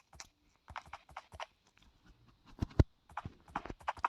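Hooves of a donkey in Minecraft clip-clop in short irregular bursts, near and moderately loud, with brief pauses between clusters of steps and no talk.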